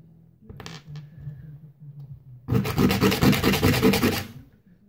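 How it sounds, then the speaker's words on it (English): Rasping friction of sandpaper on a small custom-made bone piece for a CCBS figure, a few short scrapes followed by a louder run of rapid back-and-forth strokes, close and alone. "And now I have to sand it."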